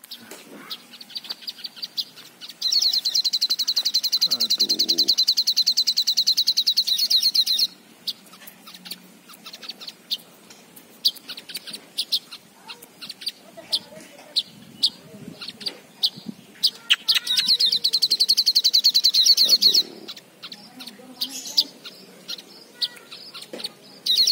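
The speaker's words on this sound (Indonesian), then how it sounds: "Siketcerit itu burung dari lolohan." A caged sikatan cerit songbird calls in two long, loud, rapid trilling bursts, separated by scattered short chirps and clicks at close range, with no speech.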